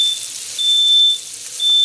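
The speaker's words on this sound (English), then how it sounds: "whenever I'm sauteing, the alarm goes off" A kitchen smoke alarm set off by sauteing pork, a steady high electronic tone sounding in three bursts over a loud hiss of sizzling and running fan or water noise, with no speech.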